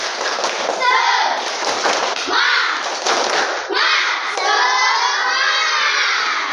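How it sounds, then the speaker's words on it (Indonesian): Children clapping together in a rhythmic spirit-clap routine in a classroom, dense clapping with chanting voices over it, loud and close throughout. "Kita tepuk semangat"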